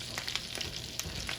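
Filet mignon sizzles in hot butter in a pan, a dense, crackling fry with scattered pops and spits over a steady hiss, close and moderately quiet, with no talking.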